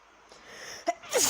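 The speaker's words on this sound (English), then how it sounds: "that was a weird ass sneeze right there." A single sneeze from a man, a faint intake building up before an abrupt, loud burst, close to the microphone in an otherwise quiet room.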